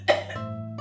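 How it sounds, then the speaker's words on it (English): A woman coughs once, sharp and close, followed by a rough, lingering rasp in the throat. "She's coughing very bad."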